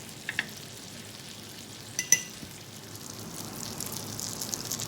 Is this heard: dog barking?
no